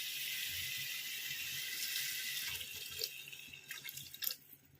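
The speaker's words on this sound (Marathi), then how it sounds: "बस इतकं पाणी टाकत आहे." Water is poured into a pot of chicken dum biryani, a soft continuous splashing pour that grows uneven and drippy toward the end, with a few light clatters; no one talks.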